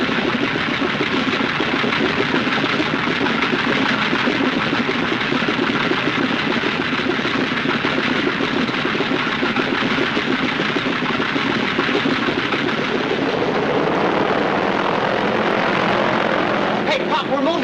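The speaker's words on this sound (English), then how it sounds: "They're just warming up the motors." Propeller airliner engines warm up on the ground in a 1940 film scene, a loud, unbroken droning roar that holds steady throughout, with people talking over it.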